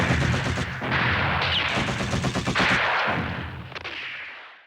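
Dense bursts of artillery and rapid machine gun fire rage loudly and continuously in a radio drama battle between Japanese troops and Korean independence fighters, crackling volleys layered with heavier booms before fading at the end.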